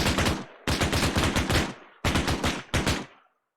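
A .50 caliber machine gun fires in the Arma 3 video game: four loud, close bursts of rapid rounds with short gaps between them, then a brief fading tail.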